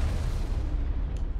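Turret fire in Mass Effect during the Virmire mission, a dense continuous rumble of booming shots without clear gaps, loud and close for about a second and a half, with no talking.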